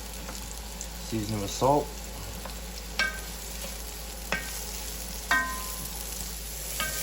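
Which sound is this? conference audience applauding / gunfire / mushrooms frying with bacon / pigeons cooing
mushrooms frying with bacon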